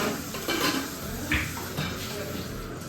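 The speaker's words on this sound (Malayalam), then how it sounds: "നമ്മളെ കുക്കർ അടയ്ക്കാം" A short metallic clatter and clank as a pressure cooker lid is fitted and pressed shut, with faint kitchen rustling around it.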